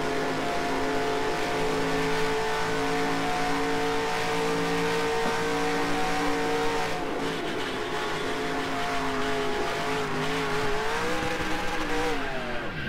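A race car engine in the NASCAR Racing 2003 sim game drones loudly and steadily at high revs, its pitch shifting and dipping near the end, with no talking.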